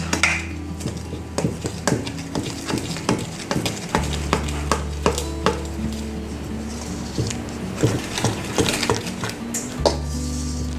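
Noodle dough being stirred in a bowl, a series of rhythmic scraping and clacking strokes from a utensil against the bowl, fairly close, repeated steadily over a low background hum with no talking.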